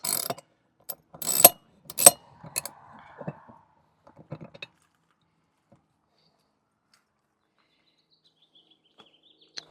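A socket wrench ratchets bolts to mount a retractable hose reel outdoors, with quick bursts of sharp clicking close by in the first few seconds, then near silence with faint distant sounds.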